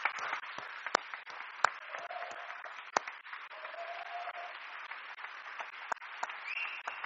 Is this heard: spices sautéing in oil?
no